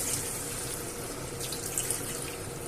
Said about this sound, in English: I will add some water.